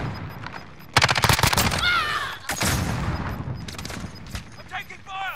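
Call of Duty gunfire: sharp, loud bursts of automatic fire up close, a rapid volley followed by further shots and scattered bangs, with players talking in between.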